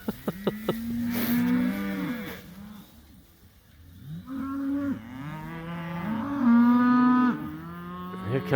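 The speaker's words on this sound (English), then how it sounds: "Here comes a cow back for her calf." A Black Angus cow calls for her calf out on the range with a string of loud, drawn-out moos, some rising and falling, separated by short pauses and coming from close by.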